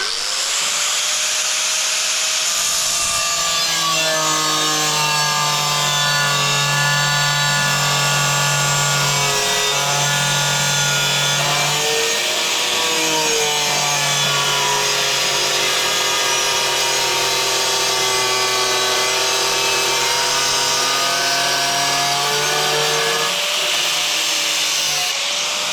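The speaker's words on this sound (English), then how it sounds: "when you're pulling out or coming out with your grinder, that's the piece I don't want" An angle grinder cuts into a wall in a long, loud, continuous whine with shifting pitch, easing off briefly mid-cut before biting in again, with no talking.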